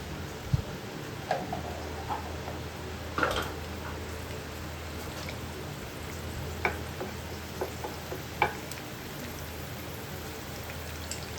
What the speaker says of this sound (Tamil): ஆயில் சூடானதும் பச்சையாக கருவேப்பிலை போட்டுக்கலாம்.